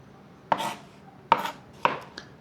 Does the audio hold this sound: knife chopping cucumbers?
yes